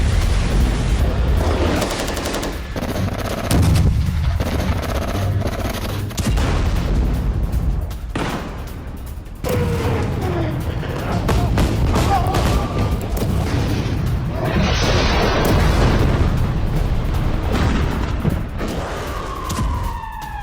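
Israeli army bombardment and gunfire in northern Gaza: heavy booms and bursts of shots over a constant rumbling din, with a siren-like rising whine near the end, loud and chaotic throughout.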